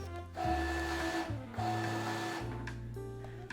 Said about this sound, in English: I'm actually excited to see the printer cut it.